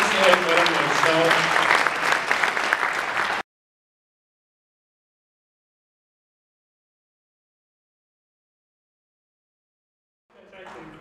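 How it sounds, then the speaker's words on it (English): Brief audience applause at a centennial tribute event for Ernie Kovacs at the New Jersey State Museum, lasting about three seconds with voices mixed in before cutting off abruptly to silence, then faintly returning at the end. "Let's give a round of applause for Louise"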